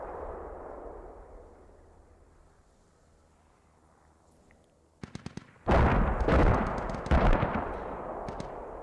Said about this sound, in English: Friendly mortars coming in here.